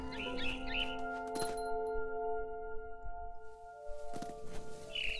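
Bright bird chirps from a barn swallow twitter in the game What Remains of Edith Finch, short faint calls at the start and end set over a sustained musical drone with a glassy chime.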